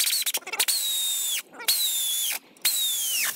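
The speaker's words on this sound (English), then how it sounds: "Get our extension, air tool, and start tightening these." A pneumatic impact tool tightens bolts on a 1994 Toyota Land Cruiser during a birfield joint job, firing in three sharp high-pitched bursts about a second each, separated by short pauses, loud and close.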